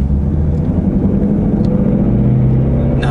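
A manual-transmission car's engine runs close and loud with a steady low rumble and mild rising revs as light throttle is applied while driving.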